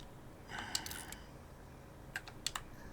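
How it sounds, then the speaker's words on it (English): Typing on a computer keyboard comes in two short, quiet clusters of clicky keystrokes separated by a brief pause, fairly close with no talking. "I am trying to use the keyboard."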